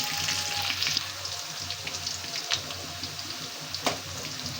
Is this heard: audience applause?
no